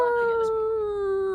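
A person imitates a dog with a drawn-out, tonal howl-like bark, a single sustained vocal note up close.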